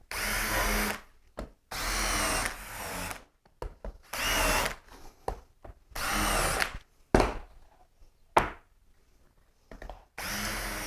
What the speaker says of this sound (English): all the holes are drilled and I have countersunk them